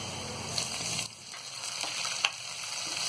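Steady frying sizzle of green garlic in a pan, with a few soft clinks and stirring noises over a constant crackling hiss.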